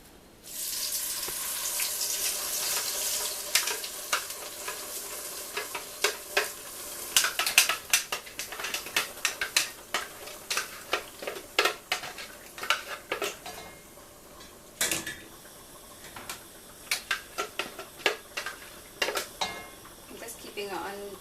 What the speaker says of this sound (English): So my oil is nice and hot now, so I'm just going to throw that in to the pan.